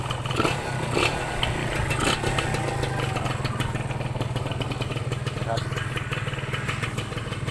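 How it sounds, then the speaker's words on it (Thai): A used Honda Tena motorcycle from 2000 idles with a steady, even engine putter that stays close and continuous throughout, while someone talks over it. "รถเครื่องดีเลยนะ นิ่งๆเงียบๆ บิดติด มือ"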